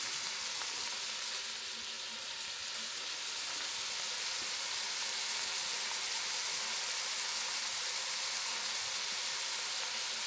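Seafood sautéing in a pan gives off a steady, loud, close sizzle that hisses continuously without a break and without any talk.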